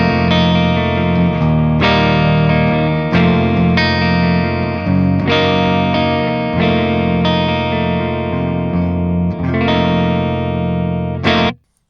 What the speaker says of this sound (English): I'm going to start on the neck pickup for a nice and warm tone.